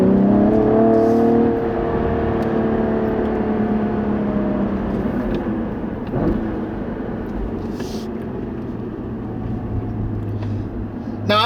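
Throttle blips as the engine of a 2016 Cadillac ATS-V with a six-speed manual rev-matches on downshifts. Engine tone rises and falls close by, loud at the start and settling into a steady drone.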